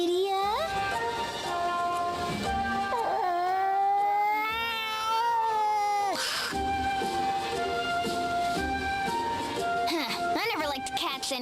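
A cat in the video game Bravely Second meows in several drawn-out, wavering cries, clear and close, with game voices talking around them.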